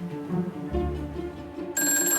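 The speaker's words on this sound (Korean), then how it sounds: "암스테르담의 유대인 담당 사무실로 전화가 걸려옵니다" A telephone rings close by in an indoor scene set in 1944 Amsterdam, a bright trilling electric bell that cuts in sharply over a low murmuring background, with no speech.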